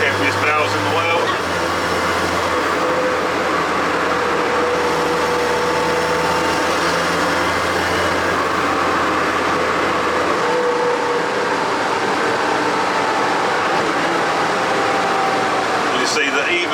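A JCB Fastrac tractor pulls a commercial trailer loaded with bales, giving a steady close engine drone and rumble from inside the cab, with a low tone in the first ten seconds and talk over it.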